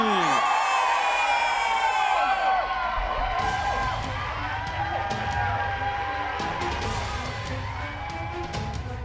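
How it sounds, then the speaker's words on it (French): Studio audience cheers and whoops for a guest arriving on stage in a Bollywood drama scene, loud crowd yells layered over dramatic music, staying energetic across the span. "veuillez lui faire un tonnerre d'applaudissements et accueillons notre cher monsieur Nikhil!"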